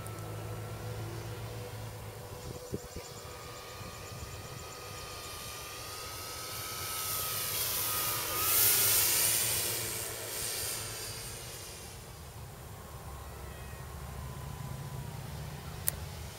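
An RC model F6F Hellcat airplane with retractable gear makes a low, slow pass over an airfield, its electric motor whine rising as it nears and fading away over steady outdoor background noise, with no talking.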